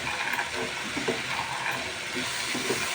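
Soaked black chickpeas frying with spices in a pan, a steady dense sizzle and hiss running the whole time with faint stirring scrapes, close and even, no voices.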